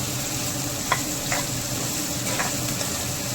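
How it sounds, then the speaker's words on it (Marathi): Country okra is sautéed in a generous amount of oil with a spoonful of lemon juice, making a dense, even sizzle with occasional soft stirring scrapes. No one speaks. "मस्त असं परतून घेत आहे"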